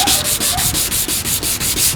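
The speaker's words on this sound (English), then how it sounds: "I'm really just going to start sanding here." Wet sanding of an oxidized plastic headlight lens by hand, a steady back-and-forth rasping with an even rhythm of strokes, close and fairly loud, with no talking.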